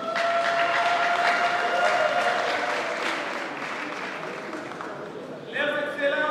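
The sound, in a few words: applause for an honoured guest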